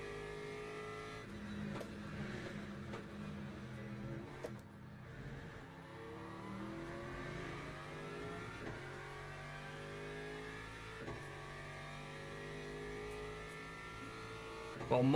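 Race car engines in the VR sim racing game Le Mans Ultimate during an endurance race with LMP2 and LMP3 prototypes, a continuous revving drone rising and falling through gear changes over fifteen seconds, moderately loud with no voices.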